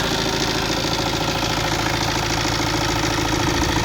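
A vehicle engine idles during an inspection for oil leaks and smoke, giving a steady, close, even drone with a faint regular pulse and no talk over it.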